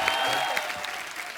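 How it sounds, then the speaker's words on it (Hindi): A studio audience at a TV comedy show bursts into dense, steady applause to welcome a guest onto the stage, loud and sustained for the whole short moment. "आप सबकी जोरदार तालियों के बीच प्लीज वेलकम"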